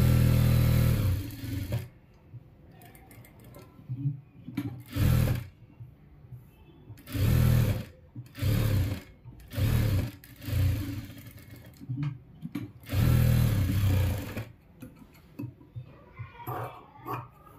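Sewing machine stitching ready-made piping onto cloth, running in repeated loud bursts of a few seconds with short pauses between, close and alone.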